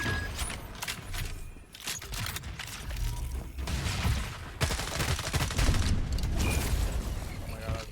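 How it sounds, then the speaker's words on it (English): Rapid bursts of gunfire and weapon clatter from the FragPunk shooter game fill the mix, with repeated volleys and mechanical clicks while a player talks over the action. "can I move and shoot with this or no?"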